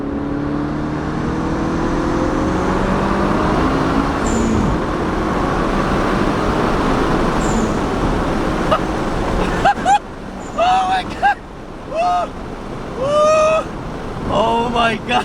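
A turbocharged Toyota GR86/Subaru BRZ engine revs hard on a dyno, a loud, steady rising roar that fills the first ten seconds before breaking into choppy bursts as excited voices shout over it.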